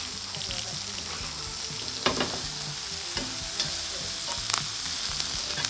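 Flank steak frying in a pan with garlic cloves and herbs in a basting liquid, a steady close sizzle with scattered spoon scrapes and clinks against the pan, and a brief word spoken over it.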